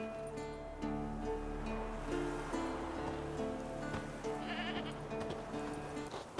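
A goat tied to a stake in The Witcher 3 bleats repeatedly in wavering calls, close and clear, with a soft rain-like hiss and faint ambient sound underneath.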